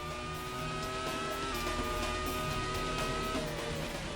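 A Formula One car races through fast corners at the Sepang circuit, its engine holding a steady high-pitched whine. It is loud and continuous with faint track ambience around it, and no one speaks.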